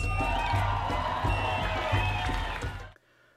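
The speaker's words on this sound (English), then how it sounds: "Round of applause!" Large outdoor crowd at Federation Square in Melbourne applauding and cheering at a lantern-raising celebration, a dense, loud wash of clapping and whoops that carries steadily before cutting off abruptly near the end.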